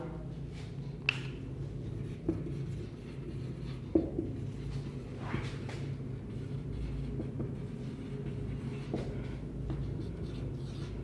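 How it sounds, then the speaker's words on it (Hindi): Sentences are written by hand, with soft, continuous scratching strokes and occasional sharper taps of the pen, set over a low, steady background rumble and no speech. "मैं सेंटेंस को लिखते जा रहा हूं।"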